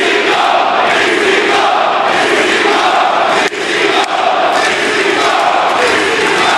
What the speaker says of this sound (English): And this crowd, Lee Johnson, I love it